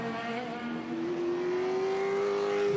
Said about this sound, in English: Gary Gould at the wheel of what's called a Frisbee GP2.